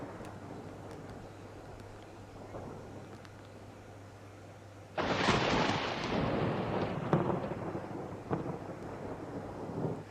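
Heavy monsoon rain in Gujarat falls as a steady wash, then a loud roll of thunder breaks in midway and rumbles on for several seconds before fading back under the downpour.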